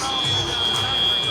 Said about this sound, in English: timeout just finished. We heard the field buzzer